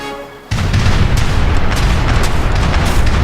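Ship cannons firing during a naval battle in the video game Age of Empires III, a sudden loud boom that rolls into a sustained, roaring barrage of blasts.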